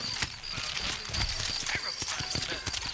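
Sturdy horses clip-clopping through a New Orleans street in the Red Dead Redemption video game, a quick run of hoof clops close by, mixed with harness jingle and a busy town background.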